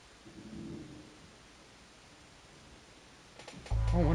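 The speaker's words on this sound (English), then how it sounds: "Looks like it's about to storm outside." A video game thunderstorm: faint steady rain hiss with a soft distant thunder rumble early on, then a sudden loud, deep crash near the end.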